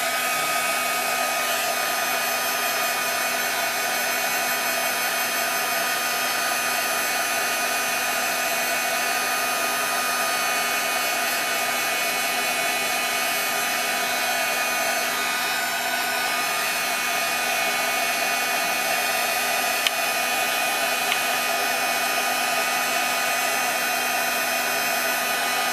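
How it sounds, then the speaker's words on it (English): A heat tool blows hot air over a freshly coated paper card at a craft table, giving a steady, loud, unbroken hairdryer-like whoosh that runs alone for the whole stretch with no talking. "We get our heat tool again"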